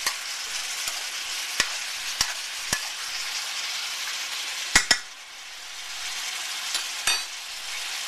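Korean short ribs browning in a pan sizzle steadily and loudly, with sharp utensil clicks and taps against the pan scattered throughout.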